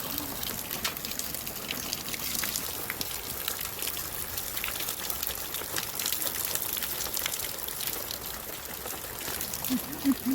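Wild mushrooms being rinsed by hand in water, a continuous splashing and trickling of water close by, with occasional louder swishes throughout.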